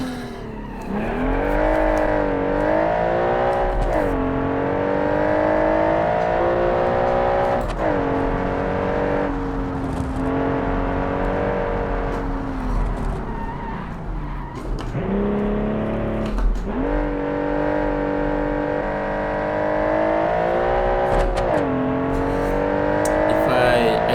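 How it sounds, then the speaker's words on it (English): A loud engine in a homologated Group B rally car inspired by the Porsche 911 revs and climbs repeatedly, pitch sweeping up through gears and dropping back, close and continuous throughout. "the engine sound is probably way too loud"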